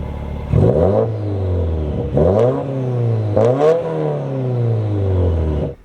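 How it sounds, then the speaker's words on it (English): A 2018 Subaru WRX sports exhaust with 4-inch tips revs repeatedly, loud and close, rising and falling through several throttle blips before cutting off abruptly. "This is my favorite exhaust. Sound-wise, it's, in my opinion, it's the best."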